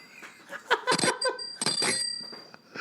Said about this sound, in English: That is a bike bell.